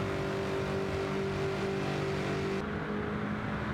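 Nissan GT-R T-Spec '24 fitted with a Bugatti Chiron V16 engine in Gran Turismo 7, holding a loud, sustained high-speed engine roar that steps down in pitch near the end.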